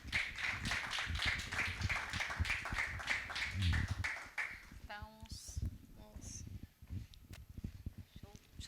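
An audience at a screening of the film "Una mirada honesta" claps loudly to welcome director Roberto Persano, the dense clapping fading after several seconds as people begin talking nearby.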